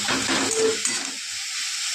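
Radish greens frying in a pan while being stirred, giving a steady close hiss of sizzling oil with soft scraping from the stirring.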